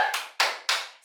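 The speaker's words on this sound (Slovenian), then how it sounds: "In si ful močno zaploskaš." Three loud, sharp hand claps ring out one after another at an even pace during a home workout, each snapping close by and fading quickly.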